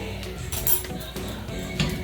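Metal spoon clinking against a cooking pot while stirring ingredients for strogonoff in a home kitchen, with several light, quick taps over a low background hum.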